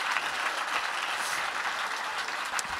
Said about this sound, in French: je voudrais un double applaudissement